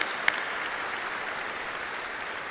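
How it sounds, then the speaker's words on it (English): Steady applause from a large audience at a high school graduation ceremony held at a university, a dense continuous wash of clapping with no voices on top. "That deserves a round of applause."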